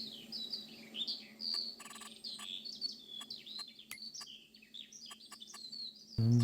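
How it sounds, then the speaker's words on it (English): Small songbird chirps from Farming Simulator 22 ring out in quick repeated bursts, loud and close over a low steady ambient hum, with a sudden heavier thump at the end. "That bird is from my game as well, isn't it?"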